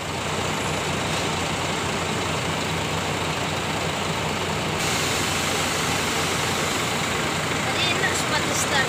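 A Medan Jaya 77 bus pulls away toward Medan, its engine giving a steady, continuous rumble amid busy terminal noise, with voices talking over it throughout.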